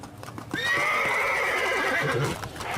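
A nervous, agitated horse at a large stable of about 3,000 horses lets out a long, loud neigh lasting most of the moment, with faint thuds of hooves underneath.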